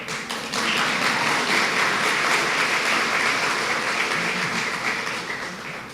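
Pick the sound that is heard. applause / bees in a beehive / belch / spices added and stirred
applause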